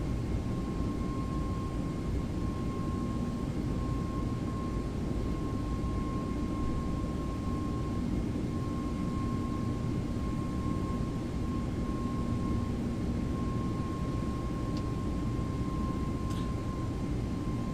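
Aircraft engines hold climb thrust in a PilotEdge flight simulator, a steady, loud, broadband roar with a faint constant whine running through it, unbroken for the whole stretch.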